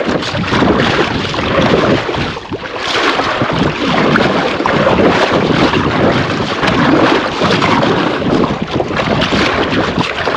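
Strong wind buffets a camera's built-in microphone by Bhavanisagar dam, producing loud, continuous roaring rumble and gusting distortion that barely lets up for the whole stretch.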